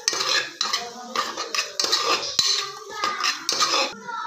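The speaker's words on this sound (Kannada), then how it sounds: "ಚೆನ್ನಾಗಿ ಮಿಕ್ಸ್ ಮಾಡ್ಕೊಳ್ಳೋಣ." A metal spoon scrapes and clinks against a pan while garam masala, coriander powder and turmeric are mixed for palak rice, giving quick rhythmic bursts of stirring, close and distinct.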